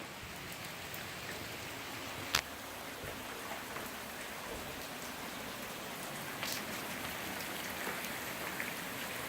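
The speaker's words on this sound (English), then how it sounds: "This is actual, it's raining a lot rain." Heavy rain pours steadily on Thanksgiving in Oregon, a dense constant hiss of drops striking surfaces, with a couple of louder isolated splats or knocks, no voices.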